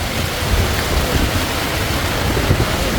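Steady rain pouring at sea on a fishing boat in the West Philippine Sea, a dense continuous hiss with low rumbling underneath and no voices.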